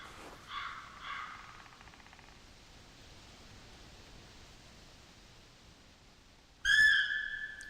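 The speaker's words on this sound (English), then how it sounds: "Or they're making noises, bird noises." Birds in the hunting game theHunter Classic: faint, repeated calls early on, a quiet stretch of steady outdoor hiss, then a sudden loud, near whistling call at the end.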